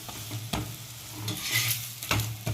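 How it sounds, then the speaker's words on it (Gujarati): A paratha frying in oil on a pan, a continuous close sizzle with a few louder scraping stirs and a brief hissing flare. "હવે નીચેથી શેકાઈ જાય એટલે આપણે આની પર તેલ એડ કરી દેવાનું."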